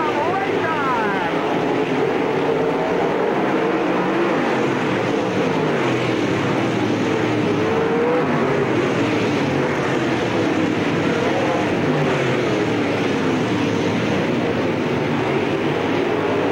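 Race cars roaring off at the start of a race at Spoon River Speedway during the 1999 Summer Nationals, a loud, continuous engine drone that holds steady throughout.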